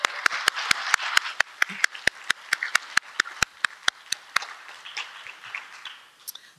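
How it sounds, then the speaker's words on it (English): A gathering claps for the team behind a garden-themed film event, a few loud, sharp, evenly spaced claps standing out over a softer crowd patter that thins toward the end. "A round of applause for everyone."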